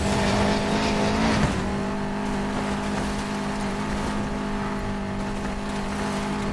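A car races in Need for Speed Payback, its engine droning loud and close with a brief tire screech near the start, then settling into a steady hum.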